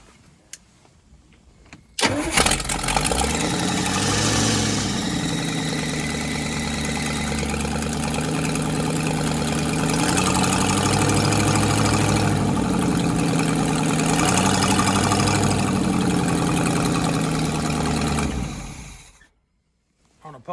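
A big block engine in an abandoned RV fires up and holds a loud, steady high idle for about sixteen seconds, its pitch wavering slightly, then cuts off abruptly, no talking.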